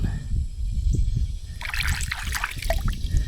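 A fossil sea biscuit rinsed in a north Florida creek, with water trickling and sloshing close by, growing into brighter splashing halfway through over a low rumble of flowing stream.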